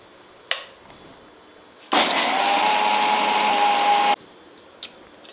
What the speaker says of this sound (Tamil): நம்ம வறுத்து வச்சுருக்கிற மசாலாவை இப்போ அரைச்சிடலாம்.